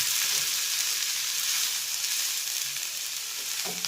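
Onion uttappam frying in a pan over a low flame, giving a steady, close sizzle that runs unbroken and alone for the whole stretch.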